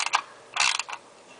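Short ratcheting clicks from a wrench tightening a lock nut on a catch can mounting bracket: a few quick bursts of clicks, close and crisp, with brief pauses between them.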